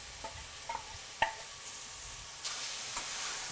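Blanched, trimmed green beans sizzling and being stirred in a saucepan, a soft steady fry with a few clinks and scrapes of the spoon, close and without talk.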